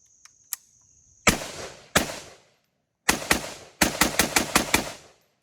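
AR-15 rifle in 5.56 fired outdoors from a 30-round magazine: a few loud sharp shots with gaps, then a rapid string of about six close reports, each ringing briefly before dying away.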